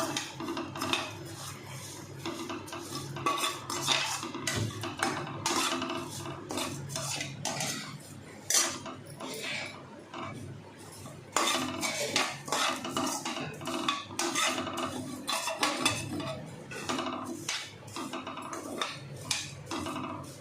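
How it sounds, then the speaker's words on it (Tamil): Vermicelli roasting in ghee in a pan for semiya payasam, with a utensil scraping and clinking against the metal in steady, busy stirring strokes, close and fairly loud throughout. "நல்லா சேமியா வறுக்கணும்."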